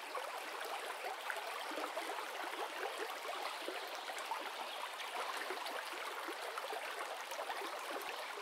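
River water flowing over stones in open countryside, a steady soft babbling and trickling rush heard faintly and continuously with no voices.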